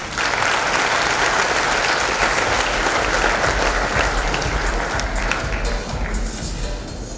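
A conference audience applauding at the opening of Facebook's Thumbstoppers Summit: dense, sustained clapping from a full room, loud and steady throughout before easing slightly at the end.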